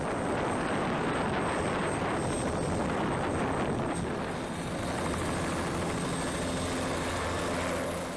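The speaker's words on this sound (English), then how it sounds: "The TH-57 is a variant of the Bell 206 Jet Ranger, which is a widely used civilian and military helicopter." A TH-57 Sea Ranger military training helicopter, a Bell 206 JetRanger variant, makes a steady loud rotor and turbine roar throughout with a high engine whine.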